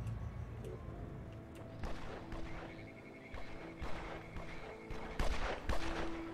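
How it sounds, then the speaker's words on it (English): Gunfire and explosions in the strategy video game Evil Genius: scattered sharp bursts and thuds at moderate volume, spread irregularly over a busy game background. "Bam, and then explosions, and then, yeah, a lot of gunfire as they made it up into the camera area"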